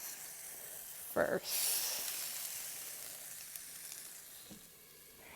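Food browns and softens in a hot pan with a soft, steady hiss that swells briefly after a short clatter, then fades slightly; a voice speaks briefly over it.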